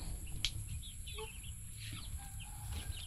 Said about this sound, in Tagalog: Native chicken to, friendship.